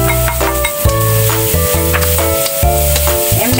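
Carrots stir-frying in a hot pan for shrimp egg noodles with sliced bacon and mushroom: a loud, steady sizzle with scraping stirs, over a faint tonal background.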